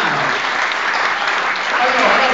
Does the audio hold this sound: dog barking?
no